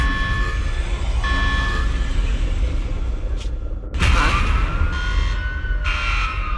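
A security alarm siren goes off inside a video game set in a main hall patrolled by Bangbu, wailing loud and continuous with a sharp surge partway through over a busy game soundscape.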